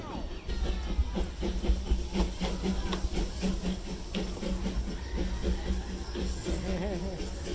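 A train rumbles past nearby with a steady rhythmic clatter of wheels on track and a hissing wash of noise throughout.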